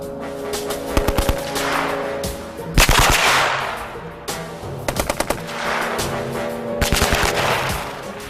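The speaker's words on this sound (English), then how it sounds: "Firing in short bursts is the Army-approved machine gun" A machine gun fires in short, rapid bursts, several separate volleys of loud, sharp cracks with pauses between them.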